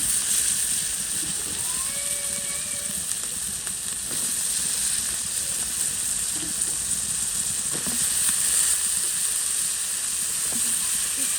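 Potatoes and eggplant sizzle steadily in a frying pan, a continuous close hiss with occasional stirring scrapes throughout.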